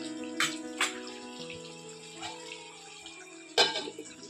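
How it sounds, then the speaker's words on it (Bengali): Water splashes into a cooking pot of bitter gourd and prawn curry, a few short pours standing out over a low steady background, with a final louder splash near the end. "পরিমাণ মতো জলটা দিয়ে দেবো।"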